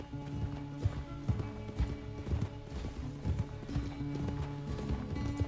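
Horse hooves pounding in the video game Red Dead Redemption II, a steady rapid clip-clop of galloping with game music and ambient tones underneath, fairly close and continuous.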